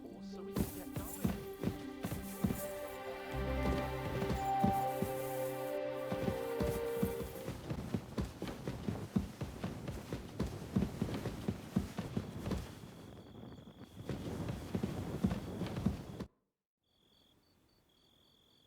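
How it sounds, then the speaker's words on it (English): Horse hooves clip-clopping at a steady walking rhythm in the video game Kingdom Come: Deliverance II, close and regular over a musical background with tonal notes, then cutting to near silence at the end. "Go and get your horse so we can get going."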